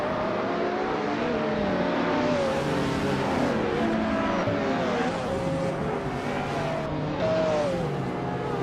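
Ferrari F40LM race car from 1989 in a racing video game, its engine holding a steady loud drone with rising and falling revs through gear changes.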